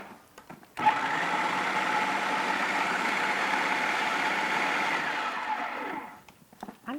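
An electric mixer whirs steadily for several seconds while mixing buttery shortbread crust dough with ice water for a Chez Panisse almond tart, starting abruptly, running close and even, then winding down, with faint handling clicks before and after.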